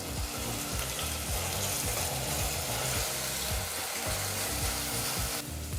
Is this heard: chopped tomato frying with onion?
yes